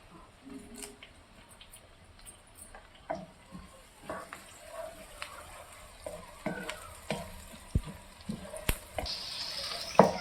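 Green chillies and curry leaves fry in a pan for a mutton keema curry, giving a light sizzle broken by scattered clinks and stirring scrapes. It stays fairly quiet and close, with no talk.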